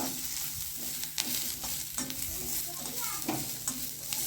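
Grated coconut stirred and sautéed in a pan for a Chettinad goat leg curry, giving a steady close sizzle broken by scraping stirs and clinks of a spoon, with no talking.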